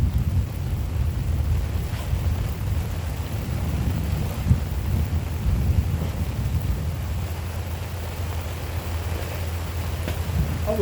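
A low, steady rumble of thunder rolls through an outdoor rainstorm, with rain and wind noise across the microphone throughout and no talking.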